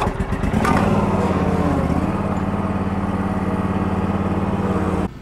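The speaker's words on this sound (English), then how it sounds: "let's go over and test drive it on some hills." A John Deere Z648M commercial stand-on mower engine roars loud and close, revving up then holding a steady droning hum before cutting off abruptly near the end.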